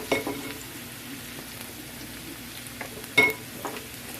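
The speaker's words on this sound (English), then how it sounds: "So I'm going to go ahead and add the peppers in." Red and green peppers go into a pan of onions that have cooked for about five minutes, setting off a steady close sizzle with scattered stirring scrapes and a sharper clink of utensil against pan.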